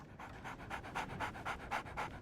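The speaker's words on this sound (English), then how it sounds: "So, Barnes has a dog now." A dog in a Sherlock Holmes video game pants steadily, about ten quick rhythmic breaths, close and moderately loud with no talking.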